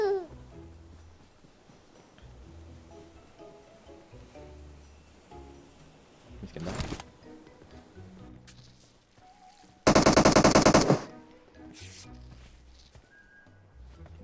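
Video game gunfire during a chaotic multiplayer battle-royale match: a short burst near the seven-second mark and a louder sustained volley around ten seconds, with quieter scattered shots and game sounds in between.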